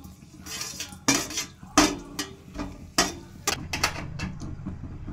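A spoon stirs spices and oil in a pan for plum pickle, giving close, sharp metallic scrapes and clinks in an irregular rhythm, with a faint hiss of oil beneath and no voices.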